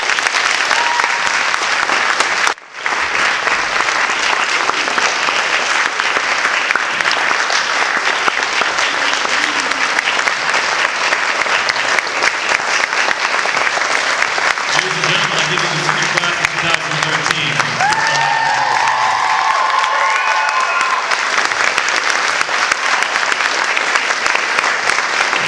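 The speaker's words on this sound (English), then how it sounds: "Let's give her a round of applause." Audience applause at a Christian academy senior thesis presentation, a long steady wash of clapping that fills the room for the whole stretch, with a short dropout early on and a few voices and cheers rising near the end.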